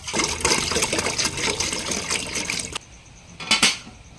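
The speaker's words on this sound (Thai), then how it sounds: "เติมน้ำลงไปด้วยครับ" Water pours steadily into a cooking pot for spicy Thai pork leg soup, a loud continuous splashing and gushing that stops abruptly, followed by a couple of brief metallic clanks against the pot.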